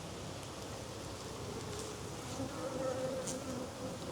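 Bees from a colony living inside a wall hum in a steady, close drone that swells a little toward the end, with no talking.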